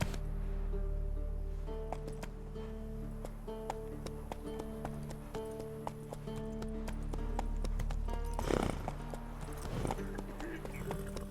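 Horse hooves clip-clop at a steady gallop in The Witcher 3, with looters' horses riding, rhythmic and continuous under game music and a speaking voice.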